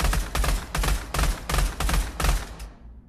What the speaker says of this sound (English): Next up, we have one of the weaker pistols, but it's 3-round burst.